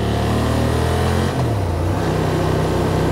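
A Honda Transalp 750 motorcycle riding in town pulls away under acceleration, its engine droning loud and close with rising then shifting revs, no voices over it.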